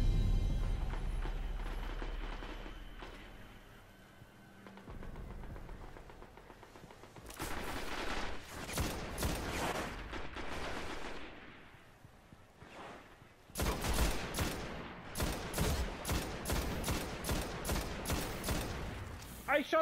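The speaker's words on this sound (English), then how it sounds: "I shot that guy like 8 times to kill him, man." Rapid automatic gunfire bursts in a Destiny PvP match, loud repeated volleys in clusters with gaps between, over game announcer cues and a player's voice talking.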